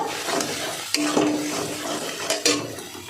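Chili powders, including Kashmiri chili, being stirred into a hot pan: spatula scrapes and metallic clinks come in quick bursts over a steady frying sizzle, close up, with nobody talking.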